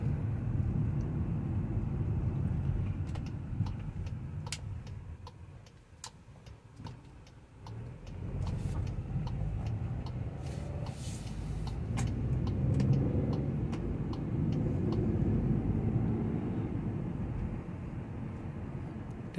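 Car with an automatic transmission accelerating through its gears, a low, steady engine hum from inside the cabin that rises and dips with the shifts, with faint ticking over it.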